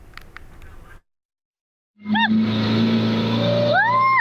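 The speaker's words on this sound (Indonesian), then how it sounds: "Terdapat sebuah mobil bus yang kembali mundur saat nekat melewati tanjakan yang sudah ambles" A bus rolls backward down a collapsed, sunken uphill road, its engine droning loud and close with rising whine-like tones, after a brief silent gap.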